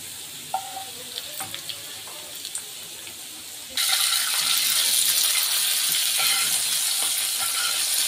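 Hot tempering poured into vegetable khichuri gives a sudden loud sizzle that stays strong to the end, after quieter clinks and stirring at the start.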